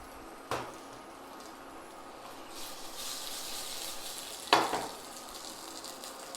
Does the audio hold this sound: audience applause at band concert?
no